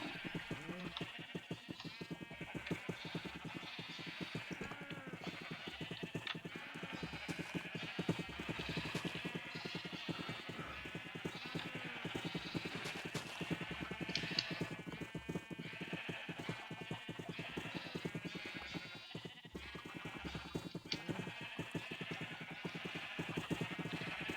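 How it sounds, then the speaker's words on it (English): Minecraft sheep keep bleating throughout, many overlapping calls spread across a dense, constant wash of in-game sound. "these sheep are pure stupid"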